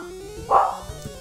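A single short dog bark rings out from a home during Pokemon Yellow gameplay, a brief yelp over a quiet background hum.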